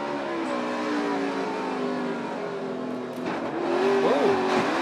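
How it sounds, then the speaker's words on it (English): Onboard NASCAR race car engine at Sonoma in 2017, a loud steady high drone with pitch rising and falling through gear changes, rough sweeps near the end, no voices over it. "We're going to ride with Danica Patrick."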